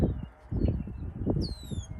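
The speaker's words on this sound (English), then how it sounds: "the red-winged blackbird is back, so he's going to start making noise and chattering at us again" Red-winged blackbird calling outdoors at sunset, a few thin high chattering and whistled notes over a steady low rumble of wind or nearby activity, fairly distant and intermittent.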